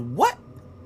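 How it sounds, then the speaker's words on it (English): A single short, rising bark from one of three stray dogs spooked in an empty lot at night, loud and close, followed by quiet background. "3 stray dogs are spooked by an unknown floating object that hovers about the area."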